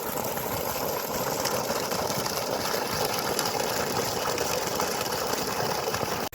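A 6HP solar-powered bore pump on a 350-foot borehole pushing a full 2-inch stream of water, a dense steady hiss and rush of gushing water with a constant low mechanical hum, close and unbroken.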